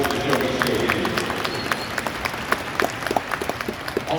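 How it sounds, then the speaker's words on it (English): Arena crowd at the Sho-Me State Games ceremony applauds supporters, a dense wash of clapping with a few sharper individual claps standing out, sustained throughout. "So a round of applause for everybody"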